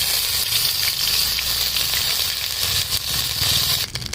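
Ginger paste dropped into hot oil with whole cardamom, cloves and cinnamon in a pan, giving a loud, continuous close sizzle and frying crackle, ending in a brief clatter.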